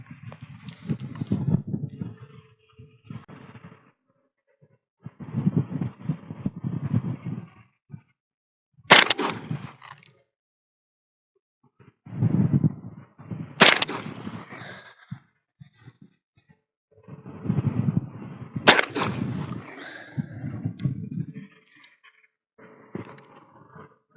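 A 12 gauge shotgun fires three single slugs at an MDF target 20 metres away on a windy day in Istanbul. Each shot is a sharp, loud crack about five seconds apart, with someone talking between them.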